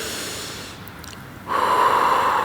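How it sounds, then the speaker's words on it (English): Slow breathing during a lying Pilates posture exercise, a soft inhale followed by a longer, steady breathy exhale through the mouth, close and alone with no talking. "So you are going to be breathing in through your nose and blowing out through your mouth."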